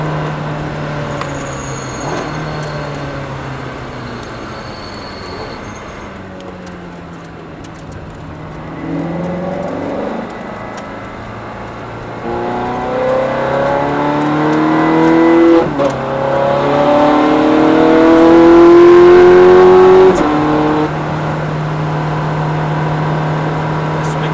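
A Ferrari F430 accelerates hard on a race track, its loud engine note rising and falling through the gears, winding up to a high roar before settling.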